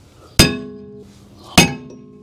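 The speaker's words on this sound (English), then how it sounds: "You just have to give it a little tap right here and here. It'll usually just pop right off." Two sharp metallic clinks ring out about a second apart as a hammer taps a stuck rear brake rotor on a Scion iM / Toyota Corolla iM. Each strike is close and decays with a ringing tail in a quiet workshop.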